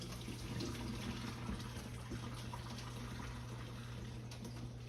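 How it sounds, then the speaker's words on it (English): Cooking liquid is drained from a foil pan of oven-baked pork ribs, producing a continuous soft pouring and trickling wash that holds steady for several seconds over a low background hum, with no talking. "I wanna drain this liquid out of here."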